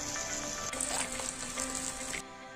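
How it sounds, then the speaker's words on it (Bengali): Very small whole crabs frying in hot oil in a pan, giving a continuous close, moderately loud sizzle and crackle with a brief shift partway through, and no voices. "দিয়ে তেলের মধ্যে ভালো করে ভেজে নেব"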